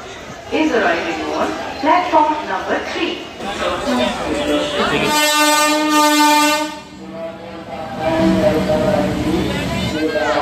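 Digha Tamralipta Express train arriving at Santragachi station, sounding a loud, sustained horn blast of about a second and a half midway through, with platform crowd chatter and voices before and after.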